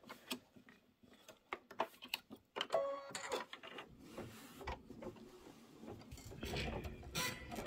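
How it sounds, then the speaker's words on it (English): An embroidery machine sews an outline stitch around a table runner, making faint, irregular ticking and clicking with short mechanical whirs, close by and quiet, with soft background noise. "now we're just going to do an outline stitch around the whole thing."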